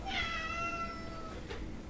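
A feral cat held in a trap lets out one drawn-out, fairly close meow, followed by a brief faint sound and quiet background hiss.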